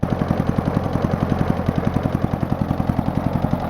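Old jerry-rigged lawnmower engine idling with its blade spinning, a loud, close, rapid steady chugging of regular firing pulses with no talk.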